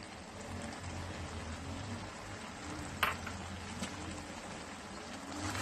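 Mixed vegetable sabzi being stirred in a pan, a soft steady sizzle with faint scraping and an occasional sharper clink of the spoon, fairly quiet and close.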